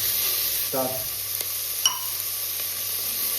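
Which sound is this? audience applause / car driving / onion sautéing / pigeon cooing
onion sautéing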